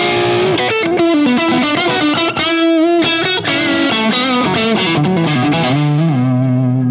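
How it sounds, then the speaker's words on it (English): Electric guitar played through a Mesa Boogie Stiletto Deuce amp on its tight crunch channel with no pedals, a loud, steady run of distorted chords and single-note lines with no talking. "So there's no pedals in front of that. That's just straight Stiletto Deuce."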